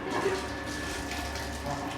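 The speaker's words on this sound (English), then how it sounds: "We can see that water is coming to the tank, process tank." Water rushes steadily into the process tank of an industrial level control system, a constant broadband splashing flow with no pauses or voices.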